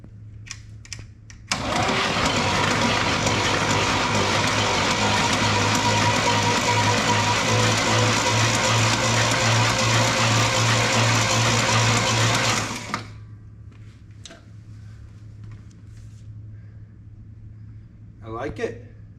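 Starter motor on a 427 big block engine, cranked by bridging the positive starter cable with a screwdriver, whirs loudly and steadily for about eleven seconds before cutting off, leaving faint clicks and handling noise.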